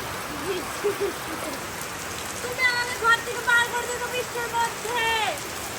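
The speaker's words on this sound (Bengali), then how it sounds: "দেখো কিরকম বৃষ্টি হচ্ছে" Heavy rain falls in a steady, dense patter, with a person speaking briefly over it and some higher chirping or squeaking sounds layered in partway through.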